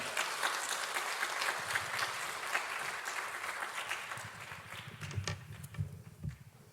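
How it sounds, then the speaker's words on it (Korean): A church congregation at a Sunday worship service claps to welcome a guest pastor. The applause is soft and distant, fading gradually, with scattered claps and a few low thumps near the end. "우리 나오실 때 박수로 환영하시겠습니다."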